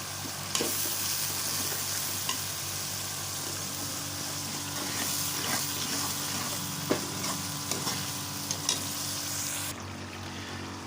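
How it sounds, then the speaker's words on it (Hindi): Spice masala of chili powder and salt frying in oil in a pan for a gram flour curry, a continuous close sizzle broken by several sharp spoon scrapes and clicks, with no talking. "मसाले को हम अच्छे से फ्राई करेंगे।"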